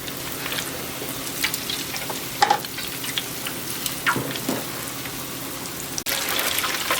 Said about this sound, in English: If you don't have a deep fryer, you can always use a deep pan, cast iron pan with some hot oil.